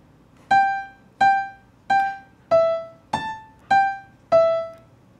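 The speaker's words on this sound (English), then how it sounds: "see how many piano notes you can hear." Seven single piano notes played one after another at a steady pace, each struck clearly and decaying briefly, some at slightly different pitches.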